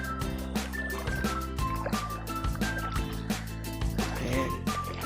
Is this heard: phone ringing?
no